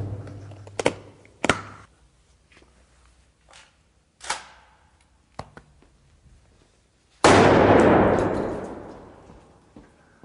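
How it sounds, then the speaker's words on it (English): A 12-gauge shotgun fires at a Pelican case outdoors: several sharp, loud blasts and impacts spaced a second or two apart, then a final louder report with a long decaying rumble. "Officer Gaines here is going to see what he can do with his 12-gauge shotgun"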